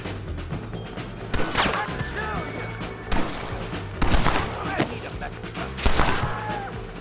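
Gunfire in Red Dead Redemption on PC: several sharp shots and impacts at irregular intervals over game ambience and music, with a voice talking in between.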